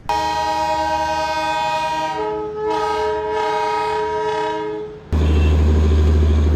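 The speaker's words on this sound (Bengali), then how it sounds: "আর দেখো টয় ট্রেন" The Darjeeling toy train passes in Kurseong, sounding a loud, long, close horn that swells and dips before cutting off, followed by a heavy, near rumble of the train rolling by, with no talk.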